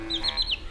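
A hen clucks in a short, fairly clear burst of a few quick notes, with no talking over it.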